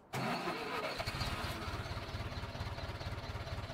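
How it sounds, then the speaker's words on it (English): An old tractor engine in Farming Simulator 19 cranks and catches, then settles into a close, loud, rapidly pulsing idle with no voices over it. "It's older tractor."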